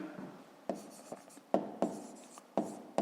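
Handwriting in a fifth-grade maths exercise, a pen scratching and tapping across paper in short strokes with sharp onsets, close up and alone, with no voices.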